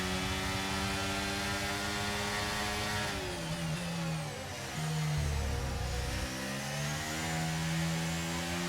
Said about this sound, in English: I don't like the Red Bull engine sound at all.